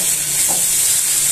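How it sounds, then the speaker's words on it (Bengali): Garlic sizzles loudly in very hot oil over high heat, a steady close bright hiss with little variation across the short stretch. "এবার রসুনটা একটু ভাজা ভাজা হওয়া অব্দি অপেক্ষা করতে হবে, গ্যাসটা একদম জোরেই দেওয়া থাকবে,"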